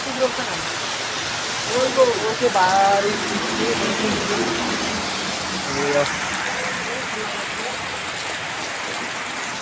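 Steady rain pours down outside a shop as a dense, even hiss that runs the whole time. A voice talks briefly over it partway through.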